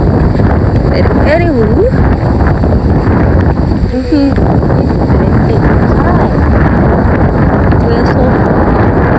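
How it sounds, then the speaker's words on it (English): Strong wind buffets the microphone with a loud, steady roar as a person speaks over it. "it's getting windy and cloudy"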